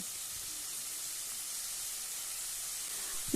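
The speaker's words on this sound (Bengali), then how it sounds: "হাই ফ্লেমে 2 মিনিট টমেটোকে 5 ফোড়নের ওপরে নাড়াচাড়া করে নেব।" Tomatoes fry over high flame in oil tempered with panch phoron, making an even, soft hiss that holds steady throughout and swells slightly at the very end.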